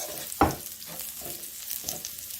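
Garlic dropped into a hot frying pan for a Thai basil beef stir-fry, with a sharp burst of sizzle followed by softer crackling and stirring, close and alone.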